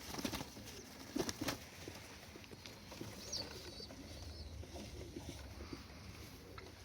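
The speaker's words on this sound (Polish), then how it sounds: "fajne gołąbki, puchate" Soft cooing from young Mikołajewskie pigeons drifts in and out over a low outdoor murmur, fairly distant and quiet.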